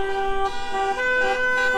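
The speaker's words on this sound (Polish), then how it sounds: "Spróbujmy przekrzyczeć jednak dźwięk klaksonów" Car horns blare at a women's street protest in Białystok, Poland, with several sustained horn tones overlapping loudly and continuously.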